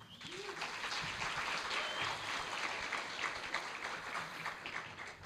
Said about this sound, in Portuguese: Palmas para ele, turma.